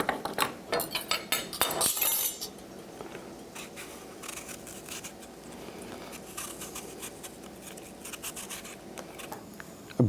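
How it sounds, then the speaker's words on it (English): Scraping, rubbing strokes of an apple being peeled, with a few sharper cuts early on, then quieter steady peeling over low kitchen background noise. "I'm going to go ahead and peel this apple."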